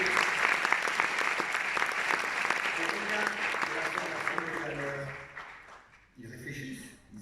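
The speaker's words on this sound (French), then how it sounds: "Vous pouvez les applaudir." Congress audience claps for a group of students, a sustained round of applause that fades out near the end before a short burst of voices and noise returns.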